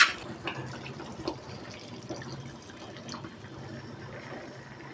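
Washed coconut milk poured into a pan of baby potato kurma, a soft continuous liquid splashing and trickling, close and fairly quiet, with no talking.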